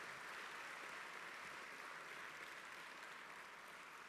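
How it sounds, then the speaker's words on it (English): Sustained applause from a large audience at a Kangan Institute graduation ceremony, a steady dense wash of clapping that holds level for the whole stretch with no voices over it. "Let's again have a collective round of congratulatory applause to all those who've received their certificates and diplomas."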